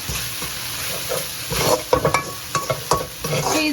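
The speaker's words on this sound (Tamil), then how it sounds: "வதக்கும் போது பின்னாடி பேக் சைட் ஆஃப் த கரண்டி நல்லா இந்த மாதிரி அதை வந்து மேஷ் பண்ணி விட்டுக்கிட்டே வந்து வதக்குங்க" Tomatoes sautéing in a pan for a roadside-style mushroom snack, a constant sizzle broken by rhythmic thuds and scrapes as the back of a ladle presses and mashes them, close and busy.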